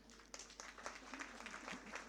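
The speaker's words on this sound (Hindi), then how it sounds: "अपने लिए भी एक ताली बजाइए" Audience applause at the CPAI convention, a dense, steady wash of many hands clapping in a large hall, moderately loud and sustained with no pauses.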